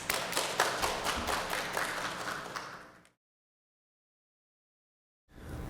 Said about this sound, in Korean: 박수로 맞아주시면 감사드리겠습니다.